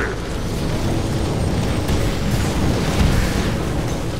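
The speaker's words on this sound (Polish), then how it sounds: "Rdzeń zaraz wybuchnie!" A continuous, heavy roaring rumble with deep booming surges as a reactor core explodes in Transformers: War for Cybertron, like a massive explosion tearing through a structure, loud and unbroken.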